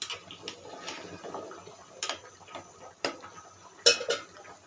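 A spoon stirs nihari curry made with beef or goat trotters, onion and chilli in a pot, giving a series of sharp clinks and taps against the metal between softer scraping.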